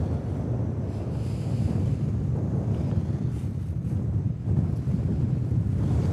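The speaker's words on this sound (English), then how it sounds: "Big gust of wind." A big gust of wind buffets the microphone outdoors beside the runway at Manchester Airport, a steady loud rumbling roar lasting several seconds with no voices.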